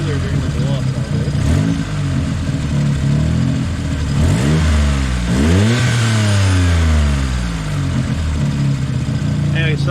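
A car engine revs hard with harmonic sweeps rising and falling, and a turbo blow-off hisses air as the throttle drops; the engine sound stays loud and continuous, with a voice talking over it.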